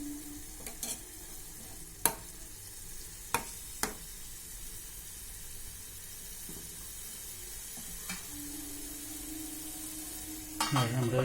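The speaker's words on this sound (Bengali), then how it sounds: "রান্নাটা অল্প আঁচে করতে হবে, ভালো করে নাড়িয়ে নিতে হবে।" Small fish curry with black pepper being stirred over low heat, a soft steady sizzle with occasional sharp clicks of the spoon against the pan and a faint hum near the end.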